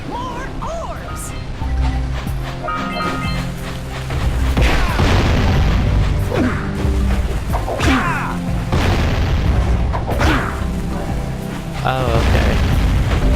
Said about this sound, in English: Shooting explosives.